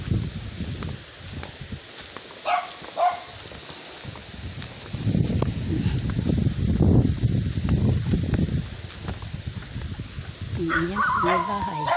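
Several dogs barking near houses along a rural path, scattered barks and yips amid rustling and ambient noise, with a busier stretch in the middle and a voice near the end.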